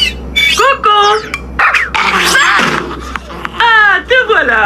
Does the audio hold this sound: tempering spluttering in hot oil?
no